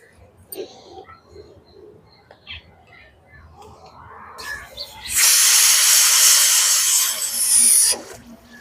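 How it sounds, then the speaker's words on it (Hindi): After some quiet cooing and faint kitchen noise, a loud steady hissing whistle of a pressure cooker cooking aseel chicken curry blasts for about three seconds, then cuts off. "तो दोस्तों ये 5वां सीटी हो गया"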